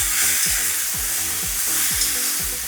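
Masala of garlic paste, ginger paste and finely chopped tomatoes frying in a pan, a loud, continuous close sizzle with some stirring scrapes.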